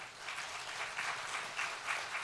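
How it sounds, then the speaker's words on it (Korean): A church congregation claps steadily during a Sunday worship service, a moderate, even patter of many hands that rises in a few gentle swells, with no voices over it. "박수하겠습니다"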